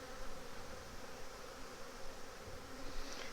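Honeybees hum steadily around an open hive being inspected for splitting, a thick, even drone of many wings close by, uninterrupted and without speech.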